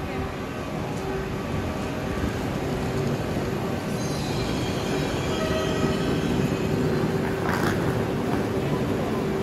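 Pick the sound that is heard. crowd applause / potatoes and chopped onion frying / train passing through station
train passing through station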